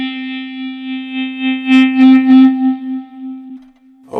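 A Millioniser 2000 MIDI wind controller blown by breath gives a steady, buzzy synth tone with a strong fundamental and many overtones, swelling briefly in the middle with breathy bursts, then fading before a short sound at the end.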